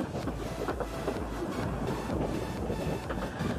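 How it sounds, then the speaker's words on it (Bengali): The Dolonchapa Express passes Trimohini junction, heard from aboard as a steady low rumble of rolling wheels and carriage noise, with faint rhythmic clatter and wind buffeting the microphone. "দোলনচাঁপা এক্সপ্রেস ট্রেনটি এখন ত্রিমণি জংশন অতিক্রম করছে।"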